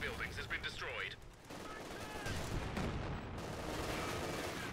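Gunfire rattles in a Company of Heroes 2 skirmish battle, with repeated bursts and shots over a dense, rumbling wash of combat noise, loud and continuous.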